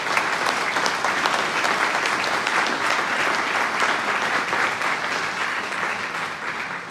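Audience in a hall at a New Year's wishes ceremony in Saint-Mammès applauding, a dense, sustained round of clapping that holds steady and tapers slightly at the end.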